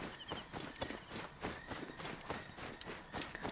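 Donkey hoofsteps in the video game Assassin's Creed Origins, a quiet, steady clip-clop of hooves walking with no voices.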